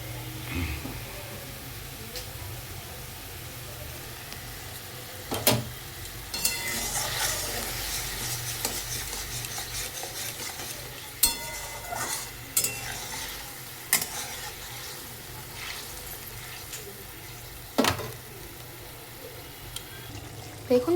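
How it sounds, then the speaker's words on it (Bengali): Tomato masala for a vegetarian paneer curry cooking in a pan, a steady soft sizzle and bubbling with occasional spoon scrapes and knocks against the pan, close and moderate, without speech. "এটা ভালো করে ফুটুক।"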